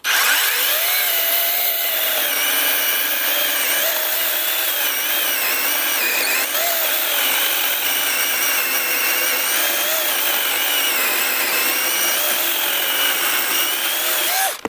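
Battery-powered ProCraft PKA 33 chainsaw cutting through wood: a steady, loud motor whine with a shifting pitch runs unbroken for the whole stretch, with no voices.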